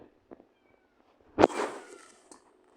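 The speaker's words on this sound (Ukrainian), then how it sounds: "Якийсь маленький кіт теж." Small cat gives a single short, fairly close meow that trails off, amid a few faint scattered clicks and light background noise.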